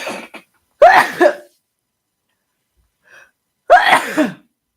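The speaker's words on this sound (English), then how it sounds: "these two twin flame sneezes just came out to me" Two sharp, loud sneezes a few seconds apart, each a forceful burst with a breathy tail, separated by near silence with a faint sniff between.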